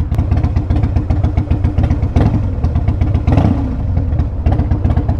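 A Harley CVO Wide Glide Switchblade motorcycle engine idling close by, a steady loping low rumble with an uneven beat and small rises in revs, heard alone without talk.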